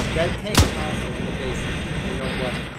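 A single sharp, loud cannon blast from a tank in a military video game, booming once near the start over a steady background of game noise and voices.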